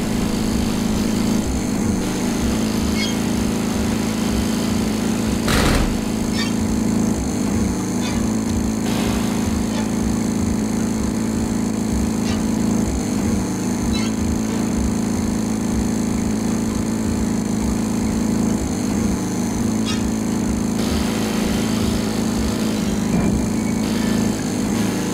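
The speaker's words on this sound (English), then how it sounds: "you would be able to turn your head and control the lawnmower at the same time" A lawnmower engine in a video game drones steadily throughout, a loud continuous motor hum with faint clicks and small variations over about twenty-five seconds.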